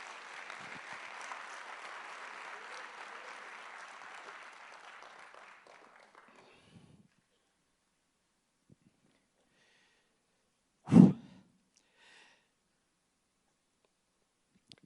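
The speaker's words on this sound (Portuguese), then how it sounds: "Pode aplaudir a Jesus." A church congregation applauds steadily for several seconds before the clapping fades out, followed by quiet and one sharp knock.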